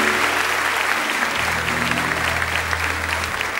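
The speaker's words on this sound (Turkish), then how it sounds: "Alkışlar Gizem Karaca için." Loud, dense studio audience applause for guest Gizem Karaca on a Turkish TV talk show, a full wash of clapping that holds steady from start to finish, with a low musical hum beneath.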